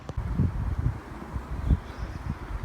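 Gusty wind buffeting a microphone outdoors, low rumbling bursts rising and falling over a few seconds with faint rustling.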